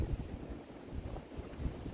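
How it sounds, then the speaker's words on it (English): Wind on a blustery, sunny day in a small town, heard as steady low rumbling buffeting against the microphone, rising and falling in gusts throughout. "It's pretty windy though also. Kind of a blustery sort of day."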